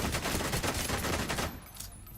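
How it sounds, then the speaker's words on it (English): Rapid shotgun blasts fired in a PvE video game, a dense run of loud, closely spaced shots for about a second and a half, then dropping to quieter game ambience. "I'm gonna try out my shotgun"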